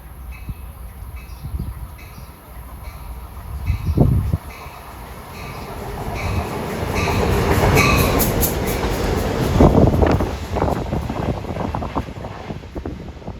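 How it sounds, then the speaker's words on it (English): A train rumbles closer on track 1 at Princeton Junction, New Jersey, its noise building with rattling wheels and clatter, loud and near as it passes by. "here comes an unscheduled train on track 1"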